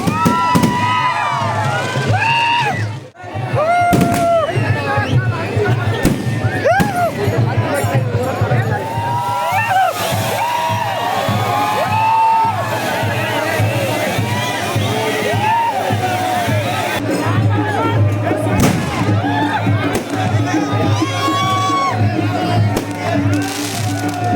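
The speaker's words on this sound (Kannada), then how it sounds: "ಸಿಡಿಮದ್ದ ಬಾಂಬ್ ಎಲ್ಲ ಹಾರಿಸ್ತಾರೆ" Fireworks and firecrackers go off at a night temple fair for the goddess Mahalakshmi in Ankali, with sharp bangs and crackles over a dense, noisy crowd, whistles and steady chatter throughout.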